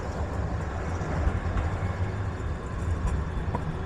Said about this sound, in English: Here's a more modern looking tram,